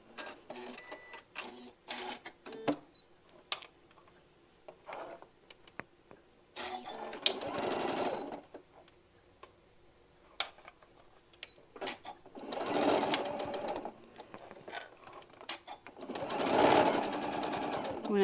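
Domestic sewing machine stitching a quarter-inch seam, short bursts of fast mechanical whirring alternating with longer runs of sewing, fairly quiet, with someone speaking between and over the stitching.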